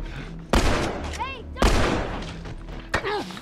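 Gunshots ring out in The Last of Us on PS3, two loud close blasts about a second apart and a sharper third crack near the end, each trailing a short echo, with in-game voices and effects beneath.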